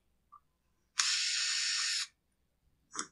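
A powered screwdriver whirs in one steady burst lasting about a second as it backs a starter screw out of a Poulan Wild Thing chainsaw, with a faint tap before and a small metallic clink after.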